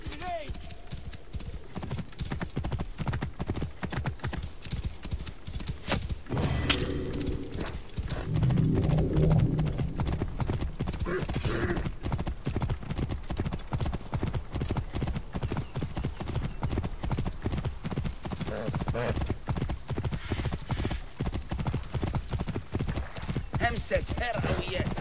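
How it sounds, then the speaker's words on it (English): Horse hooves clip-clopping in a steady rhythm with a brief whinny in the video game Assassin's Creed Origins, while a voice speaks over parts of it. "This must be Mered's horse"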